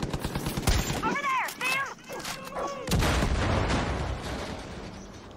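Rapid bursts of strafing gunfire in a video game sound close and loud, with a short voice exchange over the shooting and dense continuous firing afterward.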